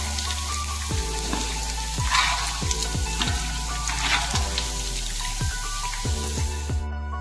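Spices sizzle in hot oil while cooking sambal for beef-tongue dendeng batokok, a steady close crackle with repeated sharp pops and spits throughout, no talking.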